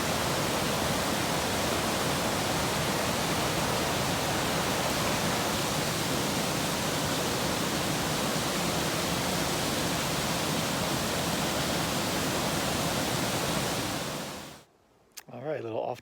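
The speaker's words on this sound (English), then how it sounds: "there is a pretty cool waterfall feature coming up" A waterfall in Sequoia National Park, near Big Bird Lake in the High Sierra, roars as a loud, unbroken wash of rushing water for most of the stretch before cutting off abruptly near the end.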